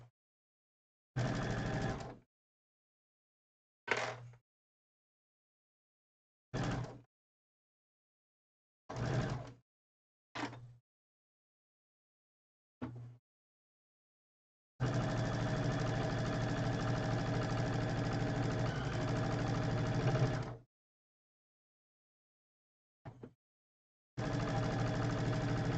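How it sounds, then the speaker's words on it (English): A sewing machine stitching fabric in short bursts, several brief runs of steady motor whir broken by silence, then one longer sustained run and a final burst, close and fairly loud. "I think I'm going to sew with the bulk on the bottom."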